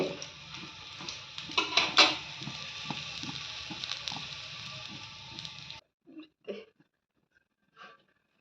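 Pitha frying in a pan, with a steady sizzling hiss and scattered clinks of utensils. The hiss stops after about six seconds, leaving a few faint clinks.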